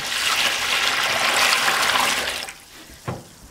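Water rushes and splashes into a sink during off-grid dish washing, a steady hiss for a few seconds that then drops off, followed by a single brief knock.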